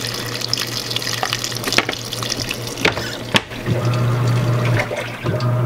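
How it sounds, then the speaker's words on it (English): Washing machine agitating water during its second rinse cycle: continuous sloshing and churning with a steady low hum, a few sharper splashes and knocks, and a louder surge of swishing water toward the end, close and alone. "At the 51 minute mark, we're agitating the second rinse."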